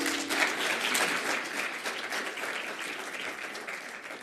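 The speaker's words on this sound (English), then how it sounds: "I think that those agreements deserve another round of applause." An audience at a hydrogen summit closing ceremony applauds the agreements, with dense, continuous clapping that starts strong and gradually eases off.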